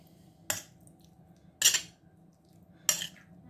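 Marinated shrimp is stirred with a utensil, making three distinct sharp clinks against a bowl spaced about a second apart over a quiet background, close and without speech.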